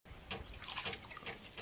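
Small raw mangoes are washed in water, giving faint, irregular splashing and sloshing with soft trickles throughout the short stretch.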